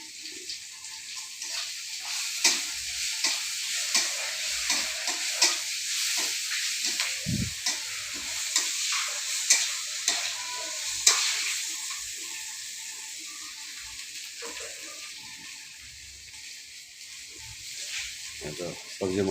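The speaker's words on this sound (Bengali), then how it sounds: "দেখেন খুন্তি দিয়ে ঠাকুরমশাই নাড়াচাড়া করছে মশলাটা।" Spices fry in a pan as a cook stirs them with a metal spatula, giving a steady hiss with irregular scraping and clinking, amid background chatter and room noise.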